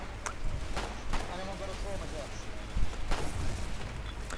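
Tank cannon fire in a video game: several sharp, heavy booms at irregular intervals over a constant rumble of battle noise, with people talking through much of it.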